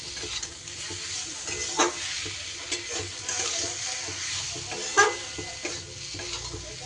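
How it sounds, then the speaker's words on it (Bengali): Spices and vegetables, bitter gourd with pumpkin, stir-fried in a pan over a low flame: a steady soft sizzle broken by several sharp scraping strokes of a spoon through the mix, with no voices. "মশলাটা দিয়ে মশলাটাও খুব ভালো করে সবজির সাথে একটু নাড়াচাড়া করে কষিয়ে নিতে হবে"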